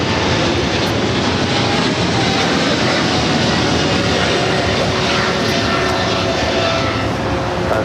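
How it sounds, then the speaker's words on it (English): A China Airlines Cargo Boeing 777 freighter takes off from runway 25 left at LAX, a loud, broad, continuous engine roar that stays powerful and close throughout with no voices. "China Airlines Cargo, the 777 freighter heading to Miami, taking off 25 left"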